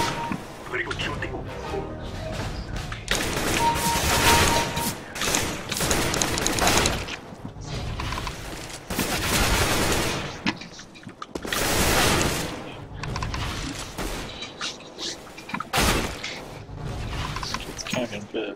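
Bursts of rapid gunfire and heavy explosive blasts from an FPS video game, loud and repeated in clusters with short pauses between firefights.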